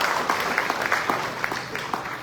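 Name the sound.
applause for the organizers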